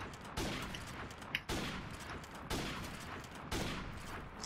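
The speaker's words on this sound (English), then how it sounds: "airstrike" Four heavy broadband bursts from an airstrike in a 1v1 online shooter match, each striking at roughly one-second intervals and trailing into a dense rumbling decay, loud and close with no talk over them.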